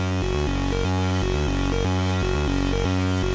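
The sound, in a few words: Moog Labyrinth synth in a modular synth setup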